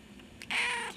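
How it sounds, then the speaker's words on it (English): A rescued house cat gives a single short, close meow, a clear rising call that fades after about half a second in a quiet room. "That's a good talker cat."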